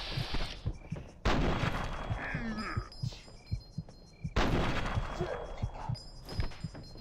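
Sniper rifle fire in Fallout 3: two heavy, booming shots a few seconds apart, each with a long rumbling tail, over game sounds and excited talking.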